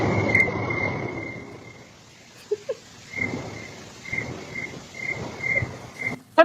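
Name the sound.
crickets chirping in a played video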